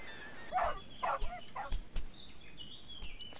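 Dogs in the survival video game Die Young bark in a few short, close yaps spread over a few seconds, with thin bird-like calls in the background.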